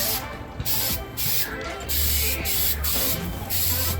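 Short bursts of spray paint hissing onto a mini bike frame hung inside a makeshift pop-up tent paint booth, repeated spurts with brief pauses between them, close and fairly loud.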